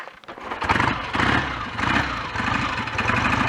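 A BSA A10 Super Rocket 650 motorcycle started from cold on full choke, its engine catching and settling into an uneven, pulsing idle with rising and falling bursts, loud and close.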